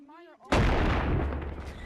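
A shotgun fires once in the VR game Animal Company, a sudden loud close blast that follows a brief voiced sound and decays into a long rumbling tail.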